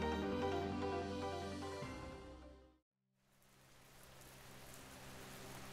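Heavy rain pours down in a steady hiss, starting behind a musical passage that fades out, then after a brief silence continuing alone as a constant soft wash.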